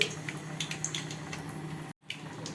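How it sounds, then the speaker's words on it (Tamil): Mustard and fenugreek seeds splutter in hot sesame oil for an ennai kathirikai eggplant dish, making a steady close-up sizzle dotted with sharp little pops, broken by a brief silence before the crackling resumes. "நல்லெண்ணெய் ஊற்றி காய விட்டுருக்கேன் அதில் வந்து இந்த வெந்தயத்தையும் கடுகையும் போட இது பொறிஞ்சதும்"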